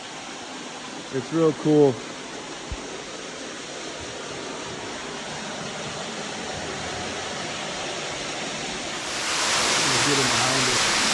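A waterfall at Lake Malone, Kentucky, heard from the hollow behind the falling water, a steady broadband roar that grows louder and brighter near the end, with brief talk early on and a voice at the close.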